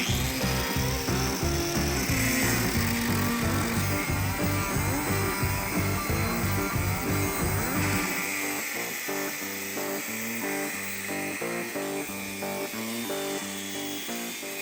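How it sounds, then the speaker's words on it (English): A power tool cuts through 1/8 inch metal plate for a clutch master cylinder bracket, a loud continuous grinding whine that rings steadily for about eight seconds, then drops into a choppier, pulsing mechanical sound. "I'll transfer it to some 1/8 inch plate and cut it out."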